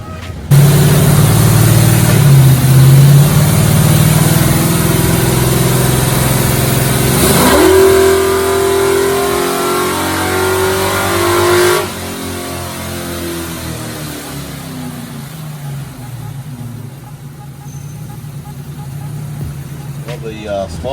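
A Godzilla 7.3-litre V8-swapped Ford Mustang on a chassis dyno, the engine loud and close as it holds a steady high note, climbs sharply in pitch, then cuts off and settles to a lower idle.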